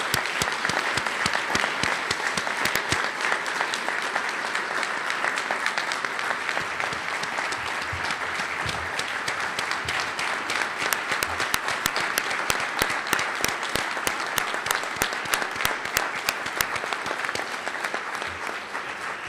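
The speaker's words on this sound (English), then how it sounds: "let's give everyone another round of applause" An award ceremony audience gives sustained applause, dense clapping filling the room steadily throughout, with a few sharper individual claps standing out toward the end.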